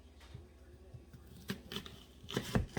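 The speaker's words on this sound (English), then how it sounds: "So let me just cut this onion up." A knife cuts an onion on a board with a few faint, scattered taps and crunchy slicing sounds at close range. The sounds grow a little busier near the end.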